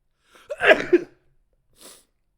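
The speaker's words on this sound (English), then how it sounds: "Is there another sneeze coming?" One close, sharp sneeze with a quick intake before it, followed by a faint breathy exhale after a short pause.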